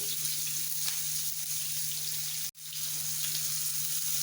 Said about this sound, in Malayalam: നമുക്ക് കുറച്ച് എണ്ണ ഒഴിച്ച് കൊടുക്കാം. ആദ്യം നമുക്ക് വലിയ ഉള്ളി ഇട്ട് കൊടുക്കാം.